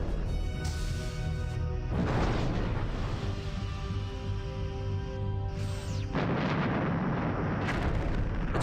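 Starship torpedo fire in Star Trek Bridge Commander: two heavy booming launches or impacts, a few seconds apart, each a sudden loud crash over a constant engine hum.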